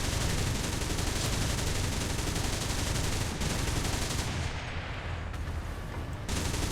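Continuous rapid gunfire from USSR vehicles in War Thunder, a dense unbroken barrage that stays loud throughout and thins briefly near the end.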